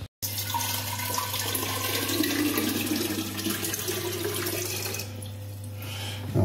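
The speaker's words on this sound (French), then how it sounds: "Ensuite, on remplit d'eau en haut et l'eau va couler" Water poured into the top of a homemade reverse osmosis filter flows and trickles steadily through it for several seconds, fairly loud and close over a low hum, then tapers off near the end.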